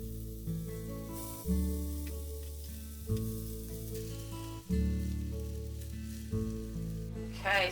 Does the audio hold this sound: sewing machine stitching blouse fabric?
no